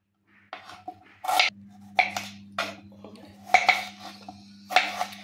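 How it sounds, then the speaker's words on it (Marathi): A knife finely chops two onions, each cut landing as a crisp, ringing tap against a hard surface. The strokes come in short irregular bursts over a low steady hum. "2 कांदे आपल्याला बारीक बारीक चिरून घ्यायचे"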